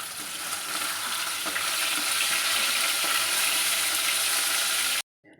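Pieces of fish fry in a pan with a loud, steady broadband sizzle lasting about five seconds, then cut off abruptly, with no talking.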